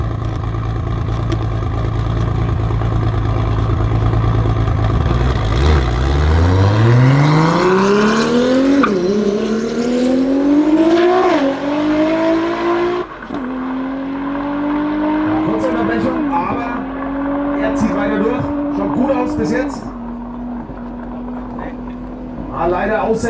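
A tuned drag racing car with a DSG gearbox accelerates hard from a rumbling idle, engine pitch climbing through several quick upshifts in a loud, close roar, with commentary talking over it.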